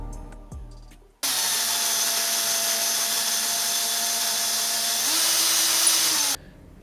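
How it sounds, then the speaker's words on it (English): A power drill bores a hole into the shoulder of a 60-year-old nativity statue during restoration, a steady close whine that starts abruptly, holds for about five seconds with a slight pitch rise near the end, then stops. "I drilled a hole in the front and back of his shoulder"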